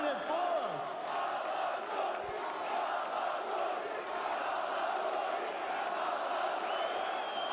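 Stadium crowd at a live esports event roars and cheers in a sustained wall of noise, with whoops and shouts rising above the din, loud and close throughout.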